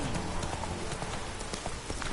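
Hoofbeats of Geralt's horse Roach in The Witcher 3: Hearts of Stone, a steady clip-clop of hooves at a walking or trotting pace under a dense, hissy layer of ambient noise, moderately faint.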